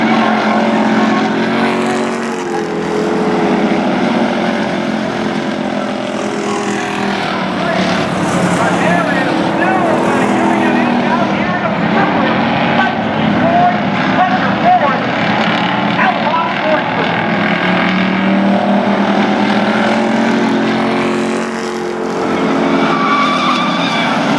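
Several race cars battle for position on a racetrack, engines roaring loud and sustained with tire squeal and rising and falling revs, while an announcer talks excitedly over the din.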